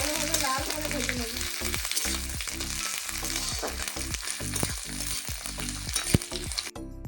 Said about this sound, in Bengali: পেঁয়াজটাকে ভালোভাবে লাল করে ভেজে নেব।